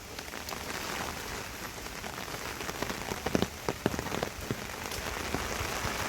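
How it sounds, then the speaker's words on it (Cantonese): Sudden rain patters steadily on the ground and foliage along a reservoir trail in Hong Kong, with a few louder nearby drops standing out from the constant soft hiss. "無端端落雨"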